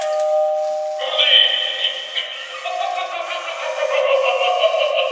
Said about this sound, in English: I have friends that this would be their idea of a doorbell